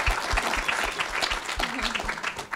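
An audience at a livestreamed political discussion event applauds, a dense patter of many hands clapping at moderate volume through the clip, with a voice briefly underneath.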